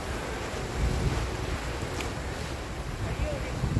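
Seaside ambience at Khao Lak in Thailand, a continuous rush of surf with gusting wind buffeting the microphone, loud and close throughout, with a brief faint tone near the middle.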